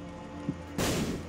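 A bomb explodes in The Binding of Isaac Afterbirth+ video game, a single sudden, loud burst that cuts in over a humming game soundtrack and lingers as a short rumble.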